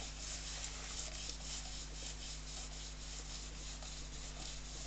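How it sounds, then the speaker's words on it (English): Fine sanding on a yew wood bowl with heavy splitting, a steady continuous rubbing hiss that stays even and close throughout with no pauses or speech. "Just go around in the opposite direction, especially on the sides. See, opposite direction, you're just rubbing the lines out."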